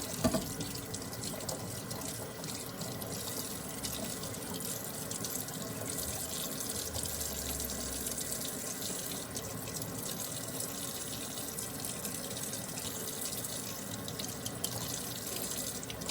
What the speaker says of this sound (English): rinse it really good